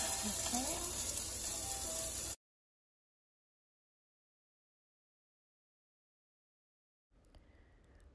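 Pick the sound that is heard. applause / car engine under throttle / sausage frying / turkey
sausage frying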